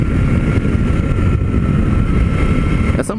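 A Suzuki V-Strom 800 rides through city streets with a loud, continuous low engine drone and wind rumble throughout, heard from the rider's position.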